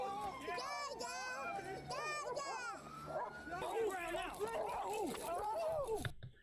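A police dog barks and yips excitedly during a struggle with a resisting suspect, repeated sharp barks and whimpers close to a body camera, under shouting voices and commotion.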